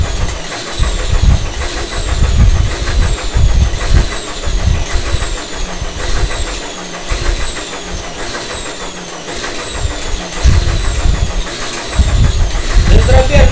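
An electric motor drives a flywheel inertioid rig, producing a loud, continuous mechanical whir with a rapid repeating rhythmic pulse and rough low-end rumble throughout, no voices over it.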